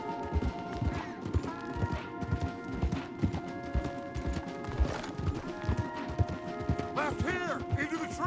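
Horses gallop in Red Dead Redemption 2 with steady, loud clip-clop hoofbeats throughout, a whinny near the end, and game music and voices over the top.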